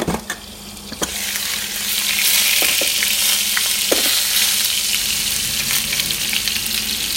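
Tomatoes and cheese grill in oil in a pan, a loud, dense sizzle that swells after a few opening knocks and holds steady, with occasional sharp spits and crackles.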